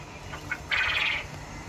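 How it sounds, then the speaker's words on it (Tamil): A short call from a male quail, a couple of faint chirps then a longer bright, harsh note, fairly close against a quiet outdoor background. "இது கத்துறது ஆண்குருவிங்க இப்போ கத்துனது ஆண்குருவி"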